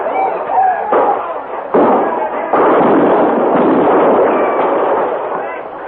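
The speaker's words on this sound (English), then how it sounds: "They're firing at camp" Gunfire attacks a frontier army camp at Fort Laramie in a radio drama. Several sharp reports and booming blasts sound at a distance, followed by a sustained roar of shooting, with voices calling out over it.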